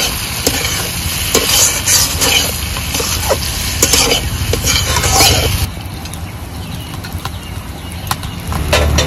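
Fried eggplant in a mustard gravy is stirred in a pan, with repeated close scrapes and knocks of a spoon over a constant sizzle that eases toward the end.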